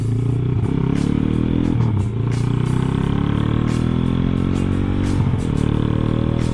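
Kawasaki Ninja SS motorcycle engine while riding, a loud steady two-stroke drone close by with rising and falling pitch as the throttle and gears change, and no talk over it.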